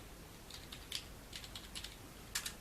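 Keys clack on a computer keyboard while code is typed, a quiet, irregular run of separate taps with a couple of sharper strokes near the end, alone with no talk.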